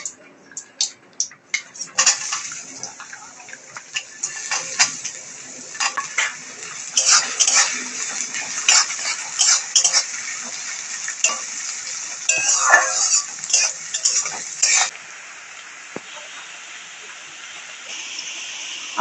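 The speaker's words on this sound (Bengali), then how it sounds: "ব্রেস্তা করার জন্য আমি পেঁয়াজ ভেজে নেব।" Onions frying in hot oil in a home kitchen for birista, with a steady sizzle under repeated clinks and scrapes of a utensil against the pan.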